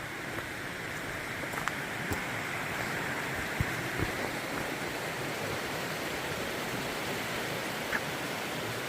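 A steady, even rush of stream water flows across a hiking trail crossing swollen by recent rain, continuous and moderately close, with no talking over it.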